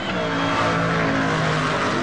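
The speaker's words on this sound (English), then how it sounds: "A car moving towards me sounds high-pitched." A car engine roars loud and close in a steady, high-pitched drone as the car approaches, continuous for about two seconds with no pause.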